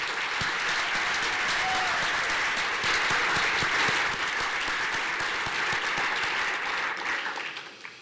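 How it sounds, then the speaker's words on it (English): A room full of people at an awards breakfast claps loudly and steadily, a dense sustained round of applause that fades out at the very end. "Let's give them another round of applause."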